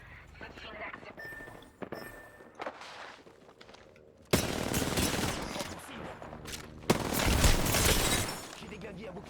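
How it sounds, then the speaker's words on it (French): Rapid bursts of gunfire from an Apex Legends match, with dense loud volleys rising mid-clip over quieter game ambience, with a voice speaking in places. "J'ai vu les tirs."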